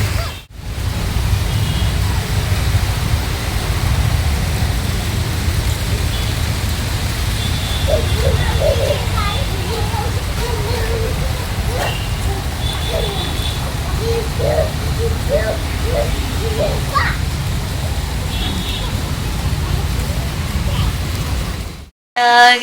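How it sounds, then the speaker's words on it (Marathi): Heavy monsoon rain pours down while water floods the streets all around, a steady roaring wash lasting throughout, with faint bird coos and chirps breaking through in the middle. "खूप पाऊस पडत आहे, सगळीकडे पाणी भरले"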